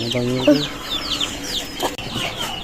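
Hen clucking near a brood of small chicks, with repeated low clucks and high peeping chirps, and a person speaking softly in the background.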